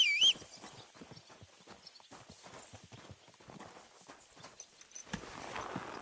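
Horses clip-clopping at a walk as riders set off in the video game Kingdom Come Deliverance 2, a steady patter of overlapping hoofbeats at moderate distance, faint and uneven with several animals moving together.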